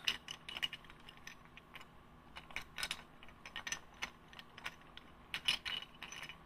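Chess pieces clatter and rattle together in a bag, a busy stream of light clicks and knocks, quiet and close.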